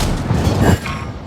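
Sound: tank cannon shot in video game

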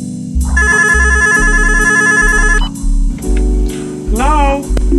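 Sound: telephone ringing

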